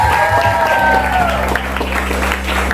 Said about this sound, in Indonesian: Sekali lagi tepuk tangan dong buat Kasta Krisna.